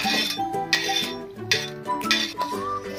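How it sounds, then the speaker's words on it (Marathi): Roasted green chillies being moved onto a plate, with close metallic scrapes and clinks of a utensil against the pan and plate in a few short repeated strokes. "यालाही आपण प्लेट मध्ये काढूया।"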